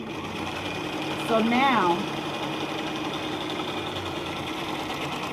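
A sewing machine stitches a folded skirt hem, its steady mechanical whir running close and continuous throughout while someone talks over it.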